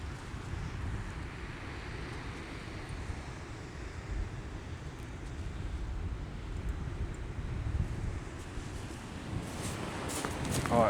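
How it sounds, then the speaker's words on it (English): Strong gusting wind of about 35 mph buffets the microphone outdoors on a fishing trip, producing a continuous loud low rumble that swells toward the end, with faint handling noise. "the wind to my back so that hopefully you guys can hear me, because it is really blowing"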